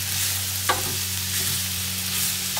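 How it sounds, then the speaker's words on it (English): Onion, grated carrot and bacon soften in a pan for lentil soup, a steady low sizzle with a faint stir near the start, close and alone. "I don't want the onion to brown, I just want it to soften with our substitute pancetta, a bacon from the butchers,"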